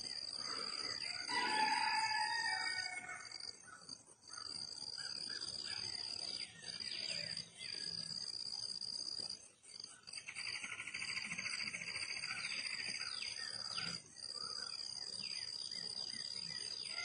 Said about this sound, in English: Yeah, crickets are loud.